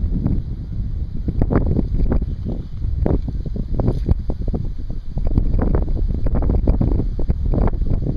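Strong wind buffets the microphone out on the water during bass fishing, a continuous roaring rumble with gusty flutter and no voices.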